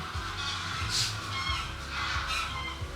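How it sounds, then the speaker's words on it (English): Geese honking overhead, a scattered chorus of calls from a distant flock, over steady background hum. "there's like a billion geese that's just about to fly over"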